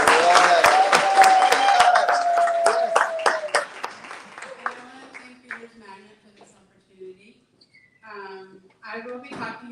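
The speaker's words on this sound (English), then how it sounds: "A round of applause." An audience at a live book event in San Francisco breaks into dense applause that fades after a few seconds, followed by scattered voices and murmuring.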